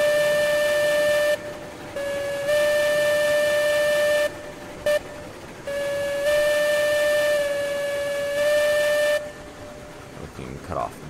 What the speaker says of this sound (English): a whistle for the switch